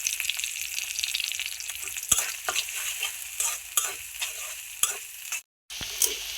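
Eggs with coriander leaves and a little salt fry in a pan, a steady sizzle punctuated by sharp spatula scrapes and taps, with a brief silent gap near the end and no speech.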